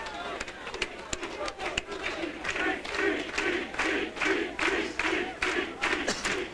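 Bowling fans at a televised TPC match clapping steadily and cheering in a continuous, dense wave of crowd noise, with voices talking over it throughout.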